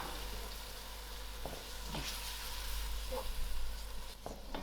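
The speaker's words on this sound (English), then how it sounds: "So firstly I'm going to add in my gram dhal." Canned gram dhal hits a hot pan with a soft, steady sizzle, a continuous frying hiss broken by a few faint clinks and stirring scrapes.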